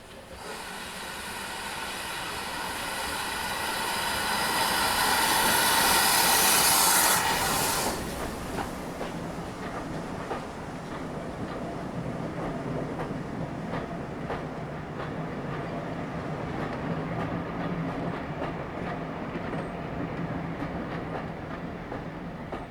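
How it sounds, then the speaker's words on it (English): GWR Prairie tank steam locomotive 4555 passes Hood Bridge, a rising rumble and hiss peaking as it goes by, then a steady rolling rattle of carriages with wheel clatter continuing afterward. "GWR Prairie 4555, which we see passing Hood Bridge"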